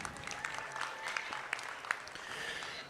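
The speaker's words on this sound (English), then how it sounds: "Let's give her a nice round of applause." Applause at a state fair market hog show in Virginia for a young showmanship exhibitor with a red gilt, a steady patter of clapping with a few sharper claps standing out, with faint voices underneath.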